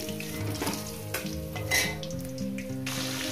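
Fish fries in hot oil in a pan, giving a dense, continuous sizzle with a few louder crackling bursts, heard under soft background music.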